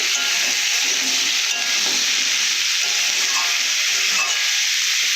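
Crab fries loudly in oil with ginger and garlic, a dense, close, continuous sizzle and crackle that holds steady throughout with faint stirring underneath.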